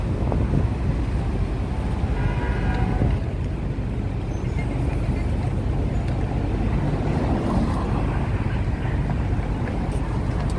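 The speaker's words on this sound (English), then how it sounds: "it's windy, it feels colder" Wind gusts buffet the microphone on a New York street on a cold evening near Fifth Avenue, a steady roaring rush with faint traffic rumble beneath and no clear voices.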